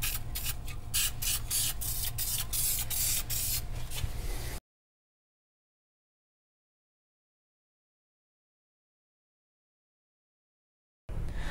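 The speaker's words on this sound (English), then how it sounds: "take some black spray paint and paint the body mount to prevent from rusting." Black spray paint sprayed onto a vehicle body mount: a steady hissing spray runs for several seconds with soft rhythmic pulses, cuts to silence, then the hiss resumes briefly at the end.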